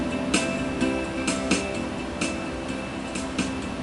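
Gentle strummed keyboard chords from a Yamaha PSR-E363's 60s pop guitar ballad style, with a guitar-like pluck, a few soft accents recurring every second or so over a mellow sustained backing.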